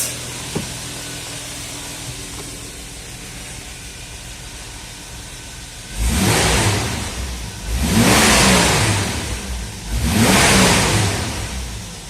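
A 1992 Nissan Patrol with a 4.2-litre petrol six-cylinder engine blips its throttle three times after a steady idle, each rev swelling loudly close by and falling back quickly.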